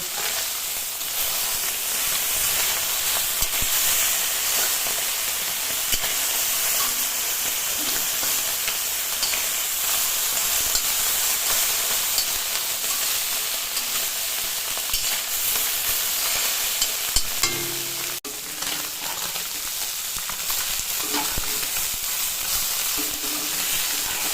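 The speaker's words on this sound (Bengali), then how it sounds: "আমার মাছ ভাজা হয়ে গেছে" Fish fries in hot oil with a loud, unbroken sizzling hiss and scattered pops, and a brief clunk of a utensil near the end.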